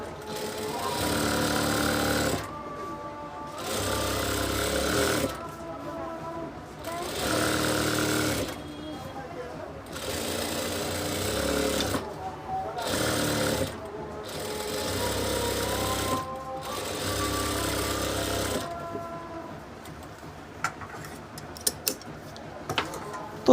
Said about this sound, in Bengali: সাইড দিয়ে আমরা আরেকটা চাপ সেলাই দিব।